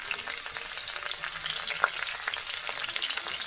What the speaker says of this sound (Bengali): এটা একটু দেওয়ার পরে ভালো করে একটু নেড়ে ছেড়ে দেবো।